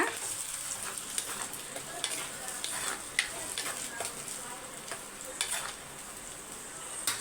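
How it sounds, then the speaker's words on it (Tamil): Tomato ground to a paste being sautéed and stirred in a pan, a steady soft sizzle with occasional scraping clicks of a spoon against the pan throughout. "நல்லா வதக்கி எடுத்துக்கோங்க"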